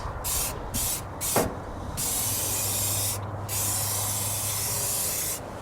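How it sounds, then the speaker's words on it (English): Aerosol spray paint hissing onto the engine headers of a C10 truck with a 350 small-block, coating them black: close bursts of spray broken by brief pauses, then longer continuous passes. "I usually paint them silver, but this time I plan on painting them black"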